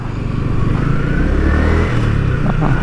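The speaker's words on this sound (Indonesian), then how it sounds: "Ya pokoknya seru banget pakai motor ini." Yamaha YZF-R15 V3 motorcycle engine under way during a test ride: a loud, close engine note with a rising rev tone, steady wind-blown rumble and light mechanical clatter throughout, with no talk.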